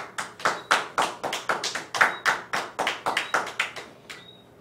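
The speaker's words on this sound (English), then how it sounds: "that's not mechanical claps. Those are real clapping" Hand clapping from a small audience, a ragged run of about twenty sharp claps in an uneven rhythm, fairly close, with no speech over it.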